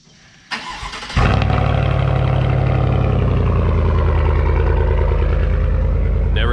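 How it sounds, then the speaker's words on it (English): A 2019 Chevrolet Silverado pickup's engine cold-starts with a short crank, then catches and settles into a loud, steady, deep rumble close by, sustained to the end. "I figured I'd give you a cold start,"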